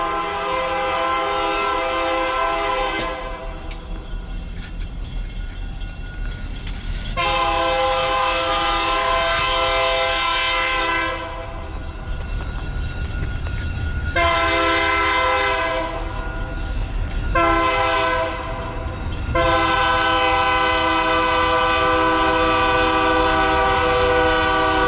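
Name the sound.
train passing with horn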